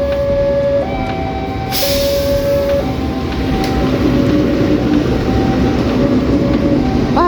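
Train hauled by a CC 206 diesel locomotive pulling stainless steel premium economy coaches, heard from nearby as a steady loud rumble with tonal horn-like notes and a brief hiss, no talking.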